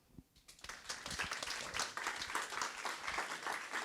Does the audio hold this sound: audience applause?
yes